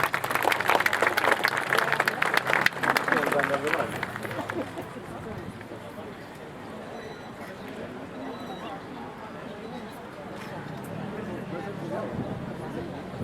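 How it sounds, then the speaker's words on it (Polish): Audience applause at a harvest festival (dożynki) in Dąbrowa during officials' speeches: a loud, dense burst of clapping for about four seconds that thins into a softer crowd murmur with voices. "Proszę o oklaski."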